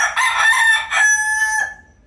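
A four-month-old McLean x Miner blue rooster crows loudly and close by, a single drawn-out cock-a-doodle-doo that rises, holds, and fades away.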